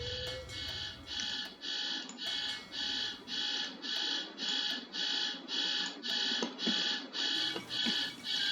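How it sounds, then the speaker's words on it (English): An alarm goes off with a rapid, evenly pulsed electronic beeping that repeats in regular bursts for several seconds, loud and close, with no talk. "Let's get that alarm."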